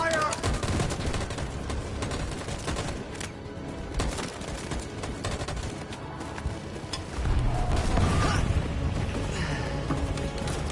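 Sustained gunfire in the video game Detroit: Become Human, dense rapid volleys of rifle shots crackling continuously and loudly throughout, with heavier booming impacts toward the end and shouted commands mixed in.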